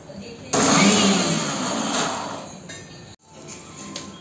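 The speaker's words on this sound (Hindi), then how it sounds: "अब इन सबको हम एक साथ ग्राइंड करेंगे" An electric mixer grinder blending ginger, salt and asafoetida starts abruptly and grinds with a loud motor whir and rattling for about two and a half seconds, stops sharply, then resumes more quietly.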